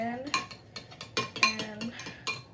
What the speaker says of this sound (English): You're gonna mix in all your food dye in,